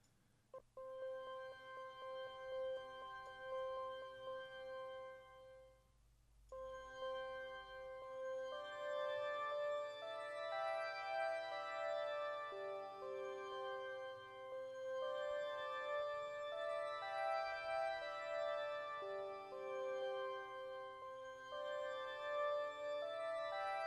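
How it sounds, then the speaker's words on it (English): A Kontakt 8 Bloom pad instrument sustains a lush, layered synth chord that swells in after a brief quiet opening, holding and gently evolving for over twenty seconds with no talking. "So it's more of a pad instrument."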